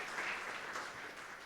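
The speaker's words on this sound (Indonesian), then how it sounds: "Yang setuju berikan tepuk tangan meriah buat Tuhan kita" Church congregation at a worship service clapping together, a dense, steady wash of applause filling the space for a moment before beginning to fade.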